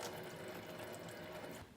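Cold water runs at a moderate flow through an Enagic Kangen SD501 water ioniser, a steady close rushing hiss that lasts almost two seconds and then eases off slightly at the end.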